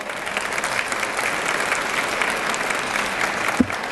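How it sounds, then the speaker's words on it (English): Luncheon audience applauds the caterers, a steady wash of many hands clapping at even loudness throughout, with no talk over it. "Let's give them a round of applause"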